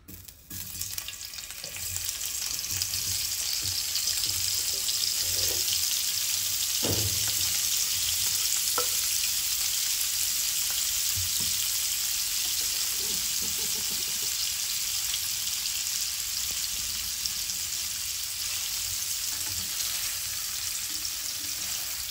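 Paneer pieces roast in a hot pan with a steady, close sizzle and fry crackle that holds evenly throughout, with occasional faint stirring knocks underneath.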